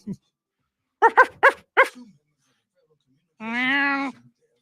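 A person imitates a dog with several quick, sharp barking yelps, then after a pause lets out one longer drawn-out whining howl.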